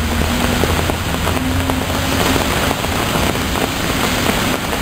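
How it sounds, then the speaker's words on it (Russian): Steady rain patters on a surface, a dense continuous hiss with scattered drops, close and fairly loud, with a faint low engine hum beneath. "Потому что дождь идет"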